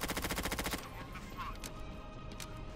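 Rapid automatic gunfire bursts from Counter-Strike Source zombie escape mode, firing at zombies, a fast rhythmic volley for under a second followed by scattered game sounds and faint voices.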